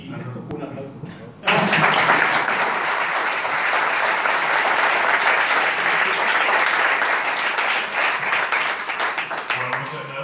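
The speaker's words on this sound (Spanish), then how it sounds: "Un aplauso" An auditorium audience breaks into sustained, dense applause after a short stretch of quieter sound at a physics conference on LIGO and gravitational waves, the clapping steady and loud for several seconds before easing slightly near the end.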